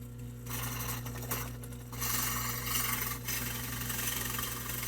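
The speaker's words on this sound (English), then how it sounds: "And we're going to start drilling." A drill press motor hums steadily while a bit grinds and rasps into wood, boring holes, the cutting noise rising and easing in short passes.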